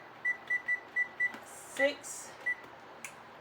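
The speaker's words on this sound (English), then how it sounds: "So now I gotta turn my timer on for 6 minutes." Short electronic kitchen timer beeps, five quick evenly spaced ones and then two lone beeps, soft and close, with a voice talking faintly in the background while candied jalapeños are being made.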